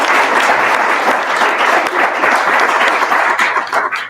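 Steady, dense applause from an audience honoring short-story authors at the close of a literary event, loud and continuous with little variation throughout.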